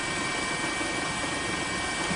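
A news helicopter films tsunami coverage near Sendai, Japan, its rotor and engine roar forming a loud, steady, unbroken drone with no voices.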